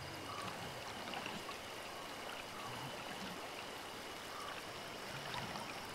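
Flowing stream water in the savanna of the video game Ancestors, a steady, faint rushing trickle that continues without a break.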